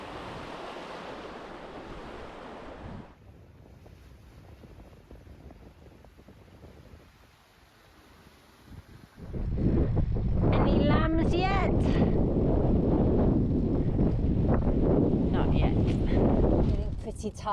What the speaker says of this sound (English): pushing into this headwind